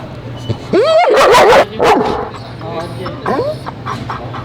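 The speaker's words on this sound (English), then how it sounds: "I did let somebody bark at us for a moment" German Shepherds bark and yip in a few quick bursts close by, with a whimpering, rising cry later, over a low steady hum.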